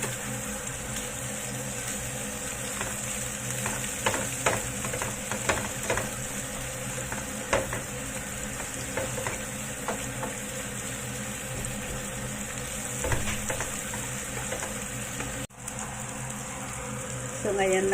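Ginger, garlic and scallion stir-fry in a hot pan with a steady, close sizzle, broken now and then by light scrapes and clinks from stirring.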